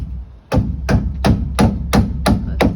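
A hammer drives nails into roof stringers on a 2x4 framed backyard shed, giving seven loud, close, evenly spaced whacks about every third of a second, ringing briefly after each strike.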